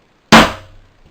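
A hammer strikes an ice pick once to mark the center of a metal piece before drilling. The single sharp, close tap is loud and decays quickly.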